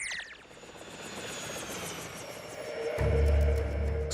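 An animated helicopter flying, a steady rotor and engine drone that swells louder toward the end, close and alone with no talking.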